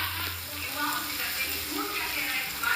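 Whole onions and garlic fry in a pan with masala and tomato sauce for a Bengali-style chicken dish, giving a steady, moderate sizzle with faint stirring, while a person talks over it.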